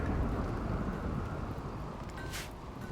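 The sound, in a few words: rain and thunder, from the video game RimWorld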